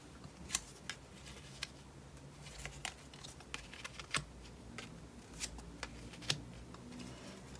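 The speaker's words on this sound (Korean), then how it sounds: "카드를 조금 더 뽑아볼게요." Tarot cards being drawn and shuffled up close, with a quiet run of crisp flicks and slaps at an uneven rhythm and no voice over them.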